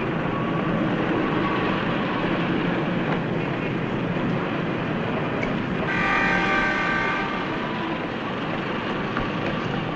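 A toy electric train set runs steadily inside a shop, producing a continuous rattling whir that swells briefly midway, with no voices.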